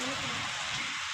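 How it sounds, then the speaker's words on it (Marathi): Heavy monsoon-style rain on a village in Maharashtra, a steady dense hiss of drops pouring down without letup, close and loud. "किती डेंजर पाऊस बघितलेला आहे याच्यापेक्षा"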